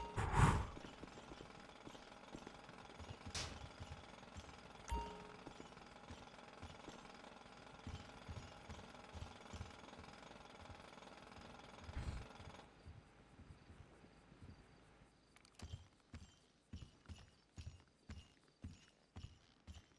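A drill grinds during a bank heist in the video game GTA V, a faint rattling mechanical hum broken by irregular knocking clatters that grow sharper and more rhythmic toward the end.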